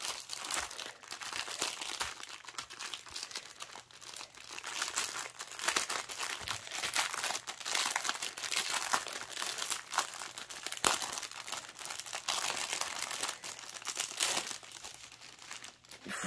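A diamond painting kit package being opened by hand, with steady crinkling and crumpling of plastic wrap and occasional tearing, close and fairly loud throughout without talk.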